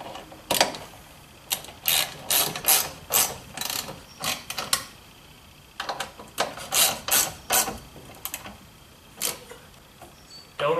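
A hand ratchet clicks in quick repeated bursts, pausing between strokes, as bolts for aluminum grab handles are tightened on a Jeep JK; close and fairly quiet, with no talking.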